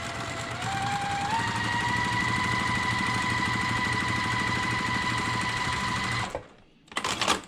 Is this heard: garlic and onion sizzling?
no